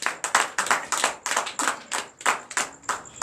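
A church congregation claps in acclamation to Jesus, a steady run of sharp, fairly close claps of many hands beating an even, rhythmic pulse for about three seconds with no talking.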